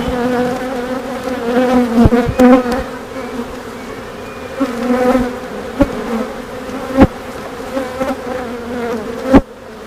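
Steady, dense buzzing of many honeybees in a hive after swarming fills the clip, close and loud, with occasional sharp clicks and bumps.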